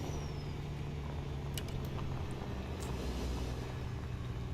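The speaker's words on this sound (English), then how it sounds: "You guys listen to the truck" A truck engine idling steadily, a low continuous rumble at moderate distance with a few faint clicks and taps over it, no voices.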